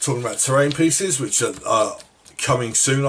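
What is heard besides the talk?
None of the usual background noises is heard.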